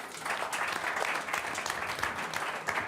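A panel at an event in New York gets steady audience applause, dense and even for about three seconds, with no voices over it.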